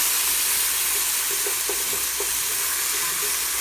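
Tomato cooking down in a hot pan during deglazing for chicken and noodles, a steady close sizzle and fry with a few brief scraping stirs around the middle.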